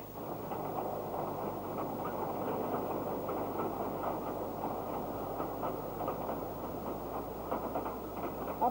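A Ffestiniog Railway steam train from around 1970 runs steadily along the line, a continuous rumbling roll with faint rhythmic clatter of the carriages, heard at an even level throughout with no talking.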